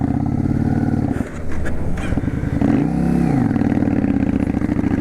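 A Yamaha V Star 650 Classic motorcycle riding through town, its loud, close engine throbbing steadily, dipping briefly as the clutch is worked, then revving up and settling back.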